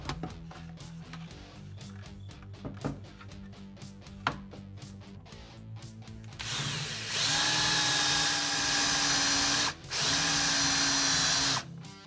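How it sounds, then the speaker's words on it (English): Scraping and tapping for several seconds, then a power drill with a small bit whines loudly and steadily while boring through the wooden body of a homemade electric guitar, pausing briefly once before continuing. "I have to use a smaller drill bit to go through there"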